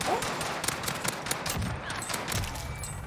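Sustained gunfire in the shooter game Warzone on Rebirth Island, a dense, rapid crackle of shots running continuously throughout, loud and close with no voices over it.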